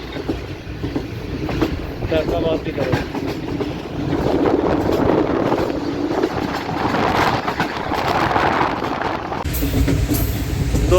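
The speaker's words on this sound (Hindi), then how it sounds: "तो दोस्तों इस टाइम ट्रेन हमारी अप्रोच कर रही है मियाँ चन्नू रेलवे स्टेशन पे" A train runs along the railway line near Mian Channu station on the Multan to Lahore route, a loud, continuous rumble and rattle with wheel clatter and wind buffeting, while someone speaks briefly over it.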